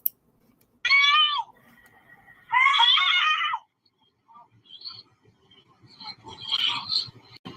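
A little boy screaming in a recording, with two long, piercing shrieks separated by a pause, then fainter scattered sounds and a rougher, broken cry toward the end.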